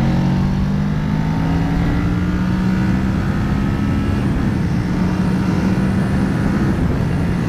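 A 2019 Kawasaki Ninja 650 motorcycle under way, its steady engine drone holding a fairly constant pitch with a slight rise, mixed with rushing wind, continuous and close throughout with no talking.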